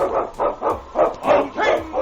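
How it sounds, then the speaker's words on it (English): Husky sled dog, an Eskimo lead dog in a 1947 radio drama, gives a series of about six loud, close barks and yips in a fairly even rhythm with short gaps, heard alone without talk. "The Wonder Dog King, swiftest and strongest of Eskimo lead dogs"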